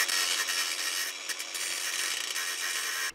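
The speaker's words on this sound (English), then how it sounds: "I can just about finish the job off with the smaller battery powered grinder now" A small battery-powered angle grinder cuts through a rusted car exhaust back box on a Ford Puma, giving a loud, continuous, high-pitched grinding whine that wavers slightly before cutting off at the end.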